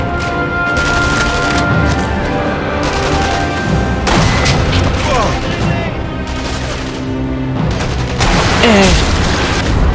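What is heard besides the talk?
gunfire shooting at player in video game Sniper Elite V2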